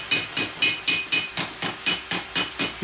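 Steel gauntlet knuckle plate being hammered to form a crease, sounding as a steady series of about ten sharp, ringing metallic blows at an even rhythm, close and loud with no talking.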